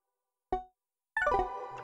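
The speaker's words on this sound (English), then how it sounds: "a flanger," One brief synth pluck is followed by a sustained, bright, harmonically rich synth tone on an E with flanger, heard alone and without talk.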